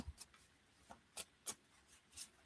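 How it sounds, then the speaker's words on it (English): Cards from a Lightseer Pocket Tarot deck being shuffled by hand, heard as a few soft, separate riffling flicks and rubs spaced roughly a third of a second apart, quiet and close with no talking. "I'm going to shuffle the cards and draw one."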